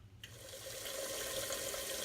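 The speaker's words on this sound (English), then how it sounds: "Fill a large pot with just enough water to cover the potatoes" Tap water runs steadily into a large pot, a constant rushing stream that starts abruptly after a quiet moment and continues close by.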